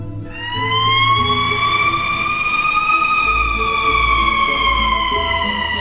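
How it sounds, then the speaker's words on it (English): A fire engine siren wails loudly and steadily up close, its tone rising slowly and holding over a low engine rumble, with no voices. "Sirens."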